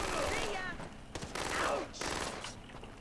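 Gunfire in the video game Far Cry 3 comes as rapid automatic bursts that are close and loud, layered over a constant game background, with voices talking over parts of it.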